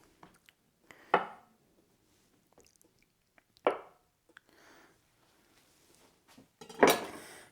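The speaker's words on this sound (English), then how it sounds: "for my deviled eggs, I'm just going to cut these in half" A knife slices through hard-boiled eggs, halving them for deviled eggs, giving three separate soft cuts, each ending in a duller tap against the board, with near silence between them.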